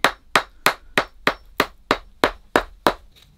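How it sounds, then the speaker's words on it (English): Eleven sharp, evenly spaced hammer taps strike leather stretched over a shoe last at a steady rhythm, close and crisp, with no talking. "I'm just using the hammer to try and stretch and get the lever to go over my last"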